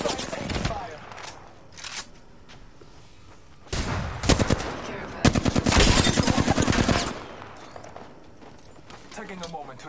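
Gunfire in Apex Legends, scattered shots early on building to loud rapid automatic bursts in the middle, with a voice speaking at times over the game audio.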